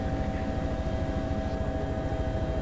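Helicopter in the video game DayZ, its steady rotor and engine drone filling the cabin at an even, close, continuous level throughout, with no speech over it.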